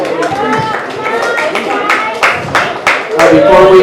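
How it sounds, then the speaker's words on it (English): Audience applause at a park appreciation ceremony, a crowd clapping outdoors while someone speaks over it and people call out nearby. "One more round of applause for these guys."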